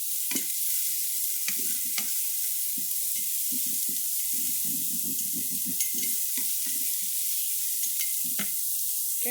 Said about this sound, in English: throw our onions in there. And we're going to get those browned up